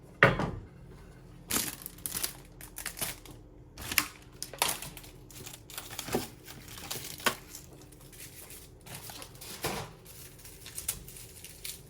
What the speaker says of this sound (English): I'm just peeling this garlic